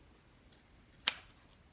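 Scissors snip once while trimming a handbag shoulder strap, a single sharp close cut in otherwise quiet surroundings.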